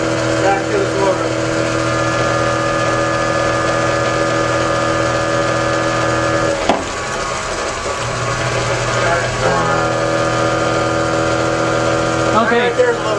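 Electric motor running as the load on a self-running 2000-watt fuelless generator gives a steady, close humming drone with layered tones. The hum briefly falters midway, then settles back into an even whir.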